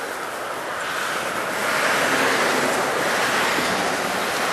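Steady rush of river water spilling over an old trickle dam, a continuous broadband roar that swells slightly midway, heard close with some wind on the microphone.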